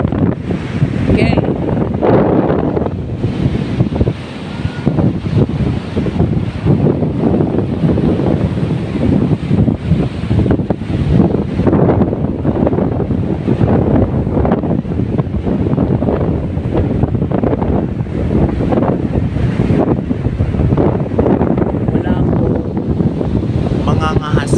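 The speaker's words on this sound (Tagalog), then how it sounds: "Ayan, malalaki po ng alon." Big ocean waves break at Bagasbas beach in Daet, Camarines Norte, rolling surf mixed with strong gusting wind buffeting the microphone throughout, with a voice speaking briefly.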